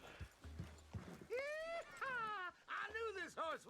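A horse in Red Dead Redemption 2 whinnies and snorts close by in several loud, wavering neighs, with a few soft hoof thuds between them.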